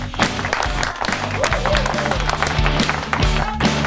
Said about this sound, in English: A big round of applause, Miss Malou Toler.